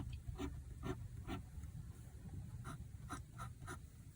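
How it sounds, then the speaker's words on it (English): A fountain pen inked with Pilot Iroshizuku Yamabudo writes on paper in short, quiet scratchy strokes, a series of close, faint bursts in an irregular rhythm with no voices. "I know it sounds scratchy, but it's not. It's just a beautiful writer."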